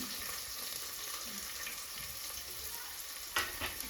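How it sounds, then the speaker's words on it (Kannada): A large chopped onion fries in hot oil in a pan while pulao is being cooked, giving a steady, close hiss and sizzle throughout, with a brief stir or clink near the end. "ಈರುಳ್ಳಿನ ನಾವು ಚೆನ್ನಾಗಿ ಕಲರ್ ಚೇಂಜ್ ಆಗೋವರೆಗೂ ಚೆನ್ನಾಗಿ ಫ್ರೈ ಮಾಡ್ಕೋಬೇಕು"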